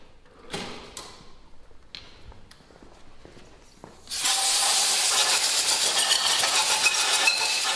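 Brake cleaner sprayed onto a part of a damaged BMW N47 (N47D20D) diesel engine from a 123d: a loud, steady hiss bursts in midway and runs to the end, after a few nearby clicks and knocks in a quiet workshop.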